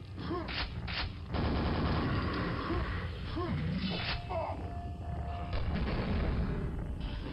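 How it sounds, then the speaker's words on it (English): Heavy weapon fire in Quake's Tremor mapset, a big nail gun blasting in repeated bursts amid booming combat noise and mechanical clatter, loud and close throughout. "I have a big nail gun."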